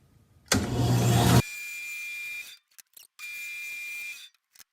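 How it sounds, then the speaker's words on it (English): A bandsaw rips a walnut board into strips. A loud, rough burst of cutting is followed by a steady whining hum from the running saw, which cuts out and returns in separate stretches. "let's go ahead and watch pushing this through the bandsaw"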